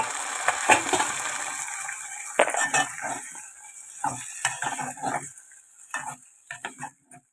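Curry with curry leaves stirred in a pan: intermittent scraping and clinking of a spoon against metal, with a soft sizzle underneath, in short irregular bursts close by.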